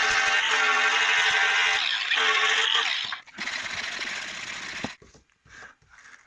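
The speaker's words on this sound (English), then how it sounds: "I'm just going to use a normal flap disc on a grinder and just clean this bit back." An angle grinder fitted with a flap disc cleans back car bodywork on a Vauxhall Nova SR. It makes a loud, harsh whine for about three seconds, then a steadier grinding pass, and ends in brief choppy bursts separated by silence.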